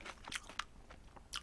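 Crispy boneless Korean fried chicken, crunched in several sharp bites with short quiet gaps between them, picked up close and fairly softly, with no talking.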